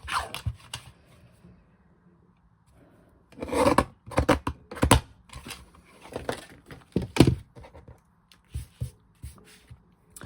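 Paper for card making is trimmed in a quiet room: sparse, close snips and rasping cuts come in short bursts separated by pauses.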